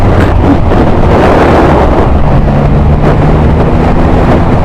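Triumph Rocket 3 motorcycle pulling a steady fifth-gear roll-on, a low engine drone rising slightly under heavy, constant wind buffeting on the microphone.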